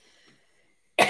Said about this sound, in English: please excuse these coughs